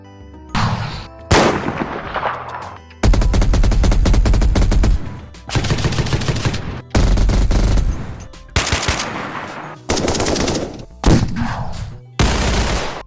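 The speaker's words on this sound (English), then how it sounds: "all weapons have completely different and very realistic sounds of shots" Gunshots from the Timeless and Classics Guns mod in Minecraft, loud close bursts of rapid automatic fire and single sharp shots, arriving in separate volleys with short silent gaps between them.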